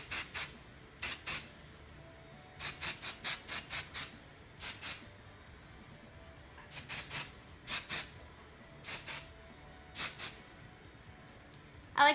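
Short bursts of aerosol spray hiss, some single and some in quick clusters of three or four, close by with quiet pauses between them.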